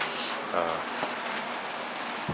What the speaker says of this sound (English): It's actually starting to rain.